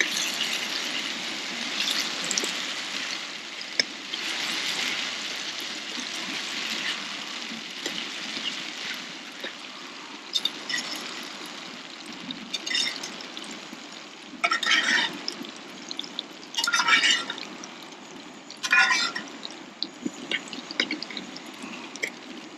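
Water is poured into a hot pan while cooking carbonara outdoors in a forest, with steady sizzling and bubbling broken by several louder bursts of hissing as more liquid hits the pan.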